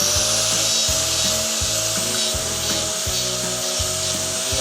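A tool trims a dairy cow's hoof with steady, rhythmic rasping and scraping strokes, close and loud, repeating at an even pace with no talking.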